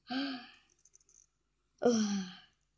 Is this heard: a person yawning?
yes